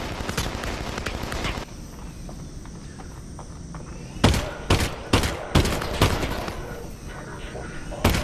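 Gunfire in the VR shooter Half-Life: Alyx, a string of sharp shots from about four seconds on, several spaced cracks with a final burst, over a steady hum of game ambience.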